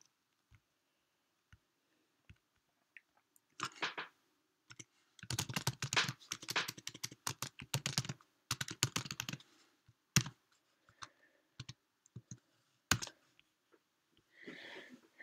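Typing on a computer keyboard while entering a name into an online code editor, with bursts of rapid clicking keystrokes separated by pauses and a few isolated key taps, close and fairly quiet.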